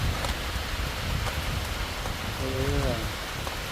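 Heavy rain pours steadily in the mountains, a dense continuous hiss of drops hitting the ground at close range, with a faint voice briefly underneath.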